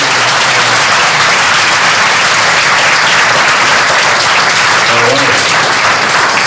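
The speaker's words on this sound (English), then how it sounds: "Quick applause!" Dense, loud applause from a startup event audience in Gothenburg, many hands clapping in a continuous roar that holds steady for several seconds.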